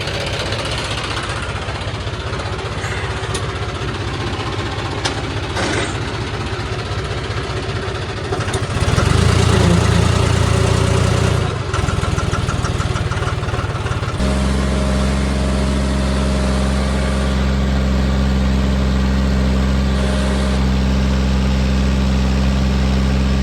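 Tractor engine running on a steady drone, swelling louder partway through and then settling into a deep, even idle hum with a low throb.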